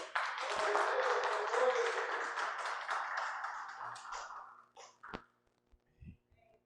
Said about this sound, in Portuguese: Aplauda, Senhor, igreja.